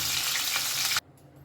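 Pieces of katla fish frying in hot oil, a steady loud sizzle close by that cuts off abruptly, leaving faint quiet background.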